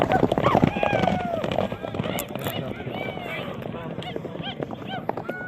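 Racehorses gallop during a horse race, hoofbeats mixed into crowd noise and a steady commentator's voice talking throughout, with honks and calls in the background.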